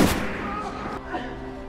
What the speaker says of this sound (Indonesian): Terpaksa, Frank melepaskan tembakan,